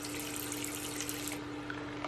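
Fresh water is poured for a pet tarantula, a soft close trickle and splash that runs for about a second before thinning to a quieter dribble, with no talking.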